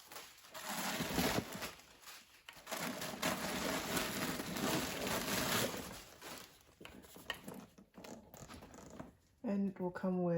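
A zipper slides open on a limited-edition 2021 Louis Vuitton Watercolor Keepall bag, its rasping pull running for several seconds at close range with faint handling rustle and a voice briefly speaking near the end.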